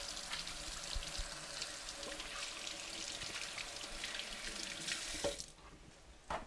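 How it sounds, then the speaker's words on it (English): Floured hands are rinsed under a running kitchen tap, with a steady splashing stream into the sink that stops near the end. "I'm just going to rinse my hands."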